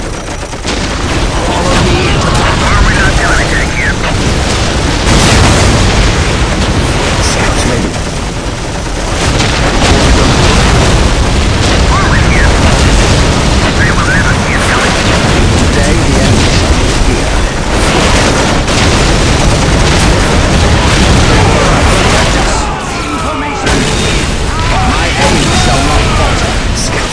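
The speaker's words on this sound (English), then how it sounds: "Whirlwind artillery tank here." In the Warhammer 40k Dawn of War strategy game, a Whirlwind artillery tank fires amid a dense battle soundscape of repeated booms, explosions and gunfire that stays loud and continuous throughout.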